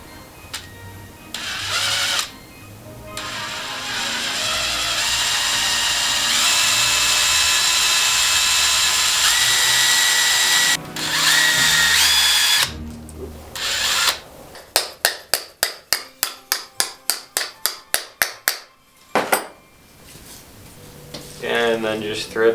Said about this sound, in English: we'll drill a size smaller in the pine cone, and that way it actually threads onto the screw